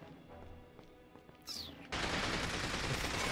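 Gunfire in the video game From Russia With Love, a burst of sustained rattling shots that starts suddenly and keeps going loud and dense, following quieter game ambience.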